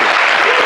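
A concert audience applauds a singer with dense, loud, steady clapping from many hands filling the space.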